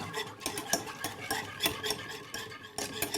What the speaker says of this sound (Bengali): মিডিয়াম হিট আর এটা কন্টিনিউয়াস নাড়তে হবে